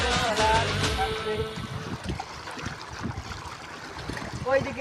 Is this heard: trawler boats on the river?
yes